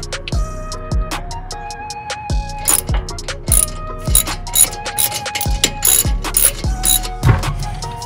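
A hand ratchet clicks in quick bursts of close, sharp metallic pawl ticks, repeated again and again, while brake caliper bolts are tightened back in on a 2018-2020 Jeep Grand Cherokee.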